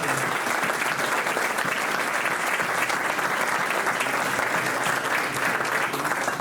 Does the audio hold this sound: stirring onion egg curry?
no